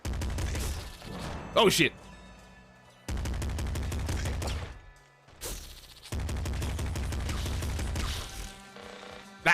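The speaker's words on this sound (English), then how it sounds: "Listen to that sound on that fucking machine gun" Rapid machine-gun bursts in a video game fire in long, loud, dense volleys broken by short pauses, with a man briefly exclaiming over the shooting.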